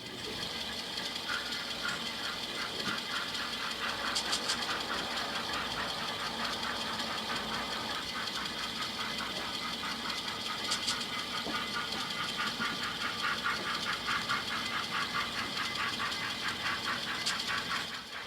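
An HO scale Blackstone K-27 model steam locomotive running on model railroad track, giving a steady mechanical whir with rhythmic clicking and faint chuffing sounds, quiet and continuous throughout.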